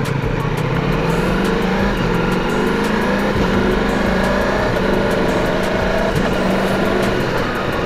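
A Ducati Multistrada V4S motorcycle accelerates up through the gears, its engine note climbing in steady pitch sweeps with brief dips at each shift, loud and continuous with wind rush.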